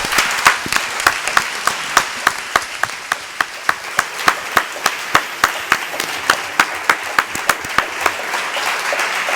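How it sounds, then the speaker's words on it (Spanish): Audience applause for two guest speakers at a literature talk, with distinct, loud individual claps standing out rhythmically over a softer background of clapping throughout. "Un aplauso para nuestros dos invitados."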